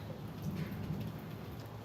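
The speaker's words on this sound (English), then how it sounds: "Rain is coming. It's raining here." Steady rain falls close by in a dense, even wash, with a low thunder rumble running underneath throughout; no voices.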